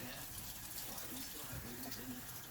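Water runs from a tap over a piece of meat that has been brining for seven days, rinsing the brine off in a steady close splashing flow.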